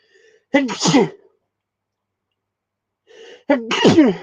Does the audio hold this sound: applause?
no